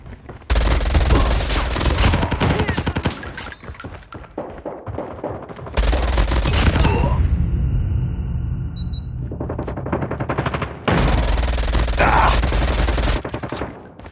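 Rapid automatic gunfire from the Call of Duty: Mobile video game comes in three loud sustained bursts, separated by short lulls with softer background game sounds.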